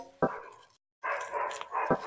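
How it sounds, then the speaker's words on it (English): A dog barks a couple of times at a distance, faint and muffled, with a short silent gap between the barks. "I hear that dog, yeah."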